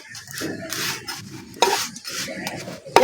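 A paratha is pressed down with a spatula and fried without oil in a frying pan, giving soft scraping and rubbing strokes in bursts, with two sharp metallic clinks of utensil on pan.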